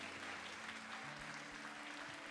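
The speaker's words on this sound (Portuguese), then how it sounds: "aplauda o nome de Jesus." A congregation at a church baptism service applauds steadily, a dense continuous clatter of many hands that sounds soft and somewhat distant, with low tones faintly beneath.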